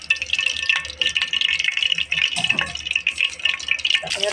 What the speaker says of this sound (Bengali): এই জন্যে ফ্রাই প্যানে তেল দিলাম